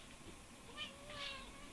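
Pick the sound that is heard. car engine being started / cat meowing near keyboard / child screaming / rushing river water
cat meowing near keyboard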